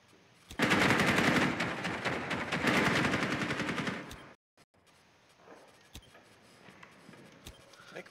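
Rainbow Six Siege gunfire on the Villa map: a loud, close burst of rapid automatic shots for several seconds, then a sudden stop followed by quieter scattered single shots and faint game sounds.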